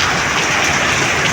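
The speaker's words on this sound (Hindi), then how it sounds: "देखें ये हवा चल रही है, हवा के साथ बारिश है।" Heavy rain falling with strong wind in Karachi, a dense, steady broadband hiss of downpour and gusts that is loud and continuous throughout, with no talking.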